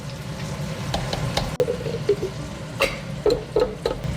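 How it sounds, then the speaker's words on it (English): Bacon fries in a pan for egg bites, giving a close, steady sizzle with scattered pops and crackles and an occasional clink or scrape of a utensil. "I have some bacon cooking for the egg bites."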